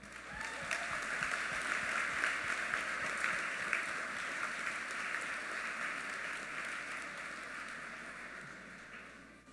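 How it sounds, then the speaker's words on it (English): An audience at a graduation ceremony gives a round of applause for the graduating class, with sustained, dense clapping filling a large hall and fading slightly toward the end. "I kindly ask that the audience join me in a round of applause for the graduating class."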